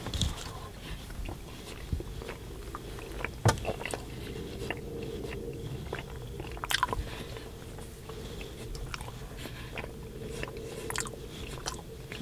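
Close, intimate bites and wet chewing of a keto French toast chaffle, soft squishy crunches repeating irregularly over a quiet background, with a few sharper bite clicks standing out.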